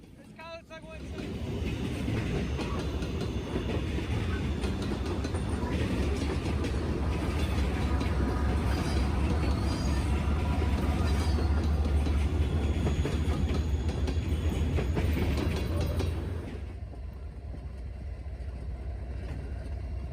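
Long Norfolk Southern freight train, NS-174 combined with NS-65Q, rumbling past close by. A steady, loud roll of wheels and cars with clickety-clack runs for about fifteen seconds, then eases to a lower continuous rumble.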